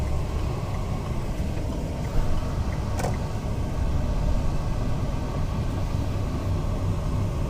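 Steady road traffic noise from cars in a stalled line near train tracks, a continuous low rumble of idling and slowly moving vehicles heard from inside a car, with no talking.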